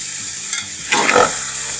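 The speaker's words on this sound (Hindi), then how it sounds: "फिर हम इसको फ्राई" Ginger garlic paste sizzling and frying in hot oil for chicken pulao, with a steady hiss that swells into a louder crackling burst midway, then settles back to a continuous sizzle.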